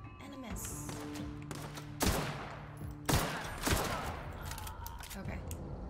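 Gunfire in The Outer Worlds video game comes as a few sharp, loud shots spaced about a second apart over background game sounds and music, with a person speaking during the exchange.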